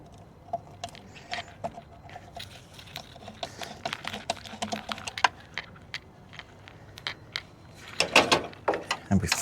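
Clicks and rattles of hand work while an airflow meter is screwed in on a turbocharged BMW drift car, a loose run of small mechanical ticks that grows busier and louder near the end, with faint talk underneath.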